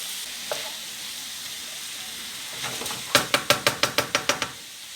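Garlic and ginger hiss in a hot pan for a spaghetti bolognese, a soft sizzle building up, then a quick run of about eight sharp, evenly spaced knocks of a utensil against the pan.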